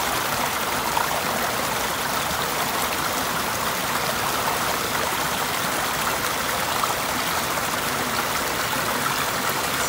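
Water flowing steadily down a creek at a garden stream center, a continuous rushing, burbling wash with no pauses, close and fairly loud, with no voices over it.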